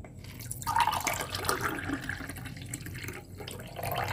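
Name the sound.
straining fennel-infused water through a strainer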